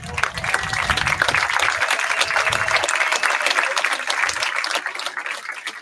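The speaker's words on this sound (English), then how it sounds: "If everyone can stand up and give them a round of applause." Audience applause at an 8-man all-star football game as the all-star players stand out on the field, a steady broad wash of clapping from a standing crowd lasting throughout, with a low rumble early on.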